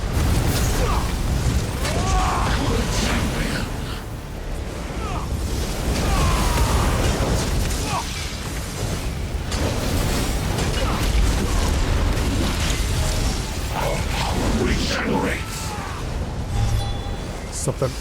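A volley being fired in Elder Scrolls Online: Gold Road, heard as repeated booming blasts and mechanical clatter in a dense, loud game soundscape, with voices talking throughout.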